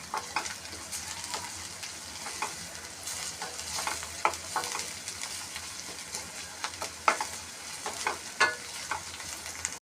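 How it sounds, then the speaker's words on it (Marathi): Crushed garlic sautéing with onions in a pan for a Koli-style wet bombil sukka: a steady close sizzle with repeated scraping stirs of a spatula throughout, no voices. "ठेचलेलं लसूण छानपैकी परतून घेणार आहे मी"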